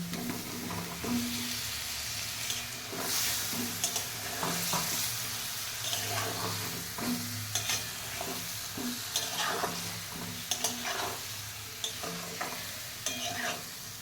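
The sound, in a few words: fried potatoes and water added to simmering chicken curry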